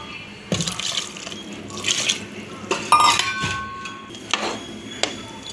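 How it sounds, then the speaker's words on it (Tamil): Hot spiced tempering is poured over brinjal for a tangy tamarind kuzhambu, with close splashing pours and light pan clinks in several separate bursts. "இப்போ எடுத்து கத்திரிக்காயில் ஊற்றிக்கலாம்."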